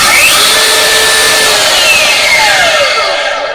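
DeWALT DCG460 cordless angle grinder running free with a loud, steady high-pitched whine that stays constant for a few seconds before starting to wind down, close and with no talking.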